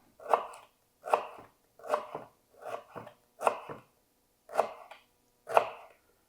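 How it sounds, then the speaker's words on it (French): A knife slices through peeled galangal root on a board, seven distinct crisp cuts spaced about a second apart, close and clear against a quiet background. "on va couper des tranches de galanga"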